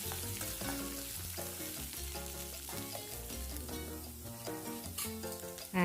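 Chopped onions sauté in hot oil already crackling with mustard seeds, chana dal and curry leaves for a masala dosa filling, a continuous frying hiss running beneath louder rhythmic background music.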